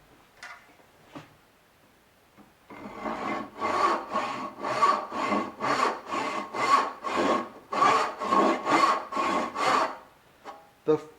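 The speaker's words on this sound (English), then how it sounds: "let's cut a stub tenon to see how these hybrid teeth perform" Bad Axe hand saw with hybrid teeth cutting a stub tenon in wood, starting with a few light taps, then a steady run of about fourteen rhythmic rasping strokes, close and clear with no talk.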